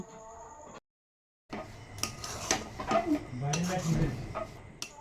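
A stiff, sticky dough for chamcham sweets, made without milk or chhana and seasoned with a little salt, is stirred in a kadai. A spoon knocks and scrapes the pan in uneven clatters after a brief silence.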